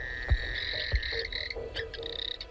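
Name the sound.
frogs croaking at night in Kakadu wet season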